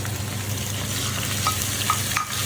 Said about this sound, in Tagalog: habang ginigisa yung prawns